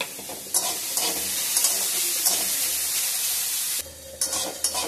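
Banana stem (thor) with potato and tomato frying in a pan, sizzling steadily up close, with stirring scrapes and a few brief sharper spits.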